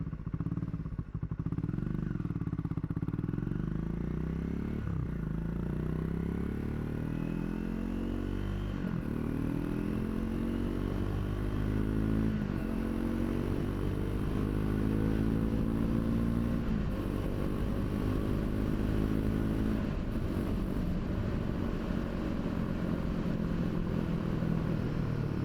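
Triumph 400X Scrambler motorcycle being ridden, its engine droning steadily and loud with repeated rev rises and gear changes throughout, fitted with a swapped sprocket.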